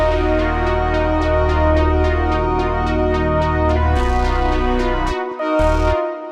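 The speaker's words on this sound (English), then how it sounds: "it's basically just the CS80 pad with a little bit of filtering and then automation" A Yamaha CS80 pad with filtering and automation swells in rich, sustained retro synth chords, a bright pulsing shimmer repeating steadily, loud and upfront, before cutting to brief gaps near the end.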